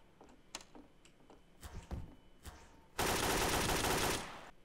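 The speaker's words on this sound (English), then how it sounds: "Alright, Bill, let's see the kind of damage we can do with this AK-47" AK-47 gunfire in the video game Garry's Mod DarkRP: a few scattered clicks and shots, then a loud sustained automatic burst of over a second.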